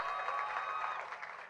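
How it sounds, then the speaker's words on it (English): An audience at a candidate's campaign evening applauds the campaign team, a steady wash of clapping at moderate distance that holds evenly and tapers slightly at the end. "I want you all to give them a round of applause"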